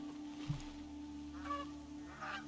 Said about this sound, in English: I'm also gonna kill this goose.